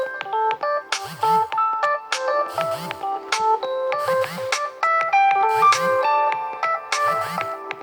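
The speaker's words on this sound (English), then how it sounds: "That's my pharmacy calling me." An incoming call ringtone plays loudly, a bright repeating electronic melody with a low buzzing vibration pulse under each phrase, cycling about five times.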